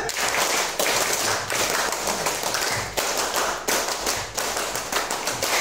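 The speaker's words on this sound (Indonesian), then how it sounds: "Tepuk tangan dulu, luar biasa." A crowd of scout course participants applauds in a dense, loud, continuous wash of clapping that holds steady throughout, with sharper individual claps standing out.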